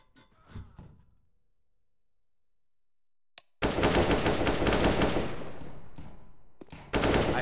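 Loud sustained burst of automatic gunfire in a video game erupts after a few seconds of near silence, pounding on for several seconds, with brief quiet talk at the start and a final sharp burst at the end.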